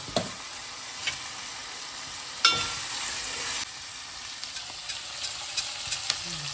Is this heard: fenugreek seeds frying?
yes